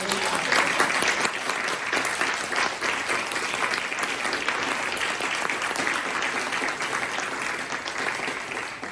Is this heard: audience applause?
yes